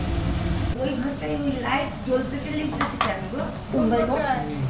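A metal plate is lifted from a stack with clattering, ringing clinks of metal dishware close by, a few distinct knocks and scrapes amid faint background noise.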